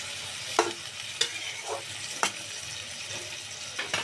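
Small cut potatoes are sautéed in a pan for a fish curry with peas and tomato, a quiet continuous sizzle punctuated by several sharp spatula scrapes and stirs at irregular intervals.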